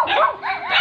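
Two excited dogs at a beach resort give a quick, close, loud burst of yipping, whining barks lasting under a second.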